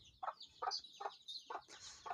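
A hen clucking in a steady rhythm of about five close, distinct calls, with faint high peeping from her newly hatched chicks in between.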